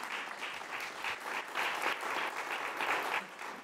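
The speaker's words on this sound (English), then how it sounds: "Please applaud." Audience applause at an awards show, a steady wash of many hands clapping in pulsing waves, continuous and fairly loud for the whole stretch.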